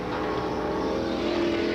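Late model super stock race cars roaring around an oval track in a 1993 feature race, a loud sustained engine drone with a rising whine as a car passes, no voices.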